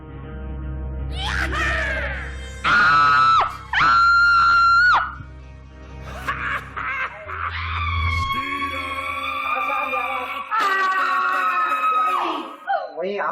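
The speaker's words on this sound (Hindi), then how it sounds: "क्या हुआ, चीख क्यों रही आप?" A woman screams in a Pakistani comedy drama scene, several loud sustained cries rising and breaking off, with talking and scene noise in between and a low hum underneath.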